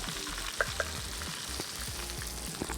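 Kashmiri chili powder sizzling in hot coconut oil with curry leaves, a soft, close frying crackle with a couple of sharp taps of a utensil against the pan, no voices.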